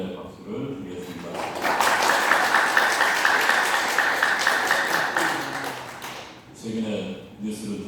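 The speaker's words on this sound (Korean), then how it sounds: "귀한 말씀 전해주신 남기타 목사님께 감사의 박수를 드리겠습니다" An audience at a Korean Christian officers' breakfast worship service at a church mission hall applauds a pastor in thanks. A dense, steady wash of clapping swells for several seconds between stretches of speech.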